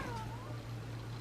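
An insistent house cat meows once, a loud drawn-out falling cry with a caterwauling edge, set over a steady low hum in an indoor room.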